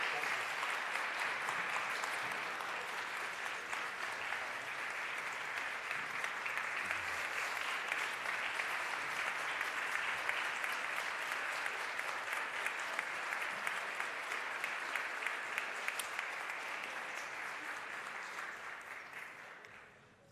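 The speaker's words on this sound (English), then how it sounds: "So a big warm applause for the panel." Warm, sustained applause from a forum audience honoring a panel on Iran's democracy movement, steady and dense for about twenty seconds before tapering at the end, with no voices over it.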